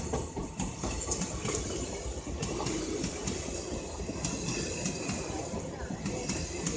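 The Saraighat Express, running with an off-zone rake toward Howrah, passes with a steady rumble and continuous wheel clatter throughout, fairly quiet and unbroken.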